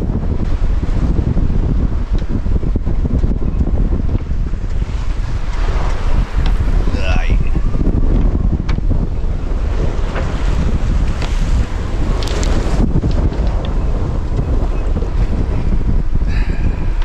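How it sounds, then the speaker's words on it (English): Strong wind buffets a sailboat at night on open ocean, gusting around 30 knots from behind, with a constant loud roar of wind on the microphone and rushing waves along the hull, occasional voices faint beneath. "Here's to a very windy night."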